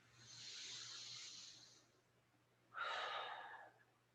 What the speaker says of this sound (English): Deep breath in and huge breath out.